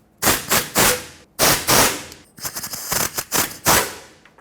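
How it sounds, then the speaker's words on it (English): An air gun loosens 13 mm oil pan bolts on a 2009-2014 Ford F-150 with a 5.4L engine. Several loud, close bursts of rapid hammering rattle in short groups, separated by brief pauses. "I'm not going to be able to take them all the way out with the air gun because the steering rack is in the way."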